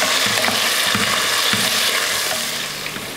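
Onion and green chillies sautéing in a pan for a quick vegetable biryani, a steady close sizzle with faint scraping stirs, fading slightly toward the end.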